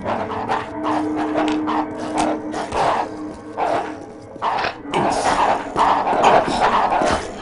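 A dog in the video game Postal 2 barks and yips in repeated loud bursts, close and alone, with short whimpering sounds between the barks.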